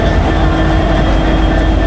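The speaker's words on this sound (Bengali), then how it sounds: "এটা হচ্ছে আমাদের আজকের ট্রেনের ইঞ্জিন, সিরিয়াল নাম্বার 6617।" A Bangladeshi train locomotive, serial number 6617, idles loudly close by on a Dhaka-to-Khulna service. A steady, dense diesel rumble with a constant mechanical hum continues throughout, with no voices.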